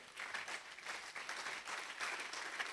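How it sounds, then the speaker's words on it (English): Faint, distant applause rises for research committee members standing for recognition at a Central Office of Research event, an even patter of many hands that pulses lightly and carries on for a few seconds. "Please, let's clap for them."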